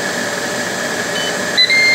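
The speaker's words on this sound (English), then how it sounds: "It should confirm with a beep" A short high electronic beep from a Ninja Speedi cooker confirming a timer setting sounds near the end over a constant appliance hum, followed by a slightly longer tone.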